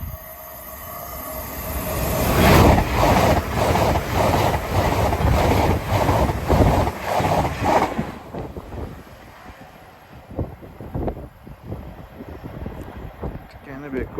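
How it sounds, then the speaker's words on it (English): An LNER train on the Aberdeen to London King's Cross service passes Hett Mill level crossing, rising to a loud, steady roar with a rhythmic clatter of wheels over the rails, then fading into rattles and clicks as it moves away. "Next service pass through is Aberdeen to London King's Cross service."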